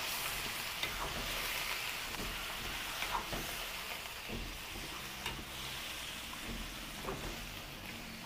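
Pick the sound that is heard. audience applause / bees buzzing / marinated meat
marinated meat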